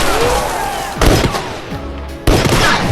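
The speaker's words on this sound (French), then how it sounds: "La bagarre alerte le gardien dans la tour de guet, qui braque immédiatement son arme et commence à tirer." A prison watchtower guard opens fire in the Prison Break film, loud gunshots cracking out in two distinct bursts about a second apart over a noisy, busy background.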